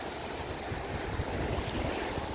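Sea surf rolling onto the beach at Prymorsk in Odesa region, a steady broadband wash of waves mixed with gusty wind buffeting the microphone, continuous and fairly close with no voices.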